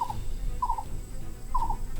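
Three short calls of a crested snake, each a quick warbling burst, repeat at intervals over a low steady background rumble; fowl-like in tone, moderately close.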